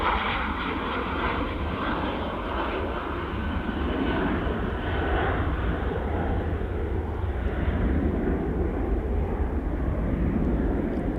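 An airliner departing Manchester Airport, a steady distant jet roar that holds at an even level throughout, heard alone without talking.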